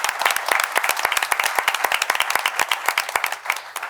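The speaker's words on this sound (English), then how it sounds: "I wouldn't dare tell you to hold your applause till the end now." Applause at a town board meeting, brisk and close clapping from a roomful of people, many distinct claps in a steady stream that tapers off near the end.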